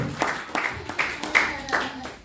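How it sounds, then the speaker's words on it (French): A congregation at a church service claps in a steady, even rhythm, about six sharp claps in a little over two seconds, fairly close, with voices murmuring underneath. "Let's clap for the Lord."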